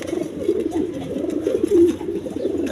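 A pair of high-flying Giribaz pigeons coos softly and steadily nearby, the low burbling calls rising and falling with no one speaking.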